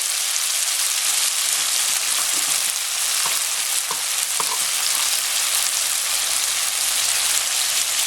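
Tomatoes and pork sautéing in a pan for ginisang munggo, a loud continuous sizzling hiss with a few light stirring clicks in the middle, close and steady throughout.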